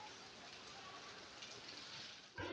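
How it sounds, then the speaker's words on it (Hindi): Steady rain falls outside at night, a soft, even hiss that continues without pause, with a brief louder rustle near the end. "बारिश देखो बंद होने का नाम ही नहीं ले रही, बिल्कुल भी रेगुलर बारिश आ रही है"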